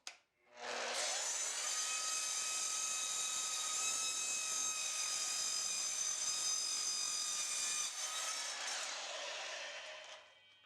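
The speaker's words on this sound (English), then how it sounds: "I take all 4 legs and gang them together using a clamp when I cut them to length." A power saw cuts four table legs clamped together to length, a loud, steady high-pitched whine that holds for several seconds and then winds down.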